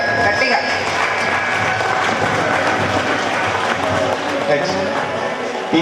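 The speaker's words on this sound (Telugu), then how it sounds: "చప్పట్లు కొట్టాలండి అందరు గట్టిగా" Audience applause at a national road safety celebration held at a bus depot in Nizamabad, a dense, steady wash of clapping that carries on loudly for the whole stretch with a faint murmur of voices underneath.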